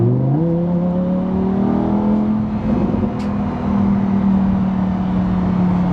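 A Lamborghini supercar's engine revs: its tone climbs sharply at first, then holds as a loud, steady droning whine, heard alone without voices.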